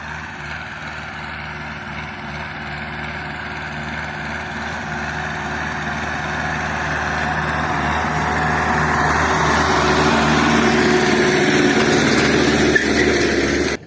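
A small tractor engine runs steadily with a low, chugging hum that slowly grows louder and closer, with no voices over it.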